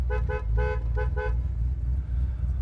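Horn of a 1968 Mercury Cougar XR7 sounds in five short, close toots in quick succession, heard from inside the car over a low idling rumble.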